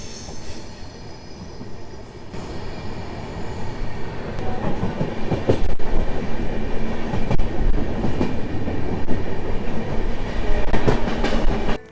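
A passenger train on a new service between Ahmedabad and Udaipur rolls steadily along the rails with a continuous loud rumble, faint wheel squeal and rhythmic clatter, no voices.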